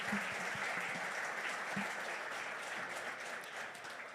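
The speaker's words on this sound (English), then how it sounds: "let's give one more round of applause" A round of applause from a team audience at a live business event, steady even clapping from many hands, fairly quiet and distant, with a couple of faint low voice sounds early on.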